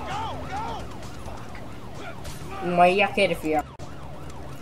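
Warbling police siren from the video game GTA V wails in a repeating rise and fall, loud and close, while players talk excitedly over it and other game sounds break in near the end.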